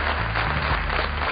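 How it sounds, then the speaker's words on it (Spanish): An audience, asked to stand, applauds a man being honoured at a talk about prescription drug addiction: steady, dense clapping that fills the whole short stretch with a low hum beneath. "le vamos a dar un fuerte aplauso a este hombre"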